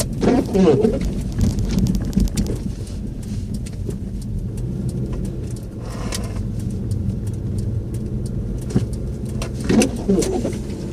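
A vehicle drives at night through snow on a winter road, its engine and tire rumble forming a steady low roar with muffled thumps and hiss throughout, and someone speaks over it.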